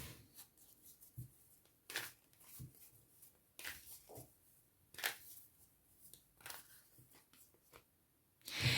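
Tarot cards being shuffled and drawn, with crisp papery riffles and flicks that come in short irregular bursts, close and fairly quiet, and a louder snap of cards at the end.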